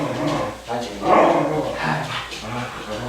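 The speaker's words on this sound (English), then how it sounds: "Those dogs are very happy to see you." Indoor dogs bark, yip and whimper excitedly in short, close bursts, mixed with a low rumble of voices.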